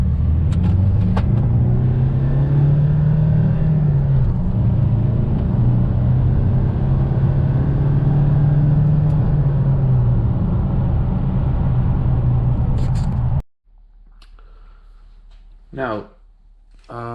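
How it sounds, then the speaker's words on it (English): A diesel car engine, its intake just treated with Würth Diesel System Cleaner, is held at full throttle in a loud, sustained roar with a rising pitch, then cuts off abruptly, leaving brief talk. "and here it goes, full throttle."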